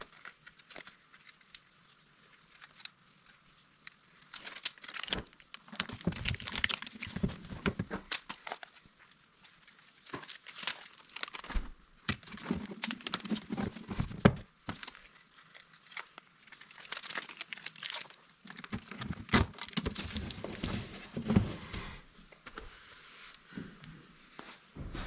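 Foil tape crinkles and tears in irregular bursts as it is handled and pressed onto an air intake pipe for a KozyHeat Z42 fireplace insert, with quiet gaps between the close rustling handling sounds.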